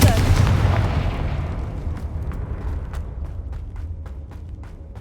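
A Confringo blasting spell in a video game goes off as a loud booming explosion at the start, then decays into a long rumbling tail scattered with sharp crackles.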